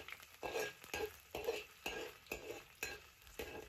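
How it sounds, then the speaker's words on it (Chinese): Scallion pieces and garlic slices stir-fry in warm oil over medium heat, a spatula scraping the wok in a steady rhythm of about seven strokes over a close, continuous sizzle. "我们下入葱段和蒜片，中火慢慢煸炒出香味来"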